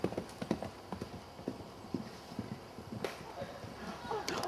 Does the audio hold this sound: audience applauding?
no